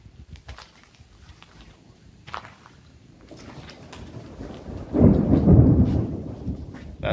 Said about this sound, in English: That's the thunder that you guys could hear.